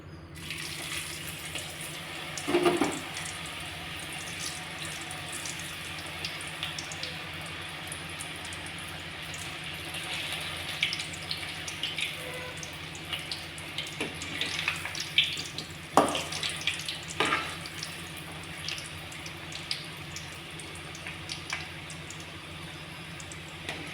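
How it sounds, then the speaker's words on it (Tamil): Potato french fries cook in hot oil in a kadai, giving a steady bubbling hiss with occasional louder pops and crackles throughout. "இப்போ நம்ம பொரிச்சு எடுத்துக்கலாம்"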